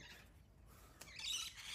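Several birds perched on a neighbouring house's rooftop give faint, scattered squawks and chirps at a distance, growing a little busier toward the end.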